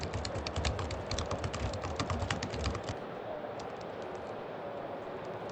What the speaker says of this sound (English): tapping on the keyboard